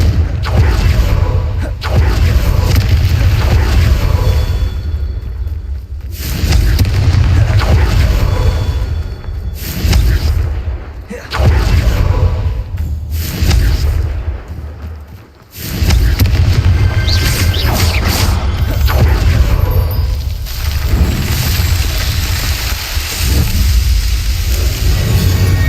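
Repeated Confringo blasting-spell explosions in Hogwarts Legacy, heavy booming blasts with whooshing bursts that go off in quick succession and sustain a loud rumbling roar, with brief quieter gaps between volleys.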